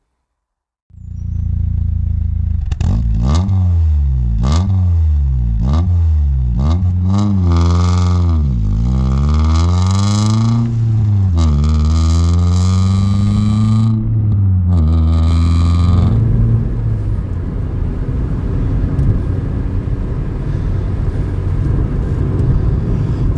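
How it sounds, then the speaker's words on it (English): A Rover 25 GTi hot hatch driving on the road after passing its MOT, its engine revving up hard and climbing through several gear changes before settling into a steady cruising drone, loud and close with no talking. "Oh wow, this Rover 25 GTI drives so well."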